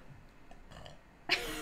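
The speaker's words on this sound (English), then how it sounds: "I have to burp." A person's loud burp bursts out near the end after a quiet stretch, close and harsh, lasting a few tenths of a second.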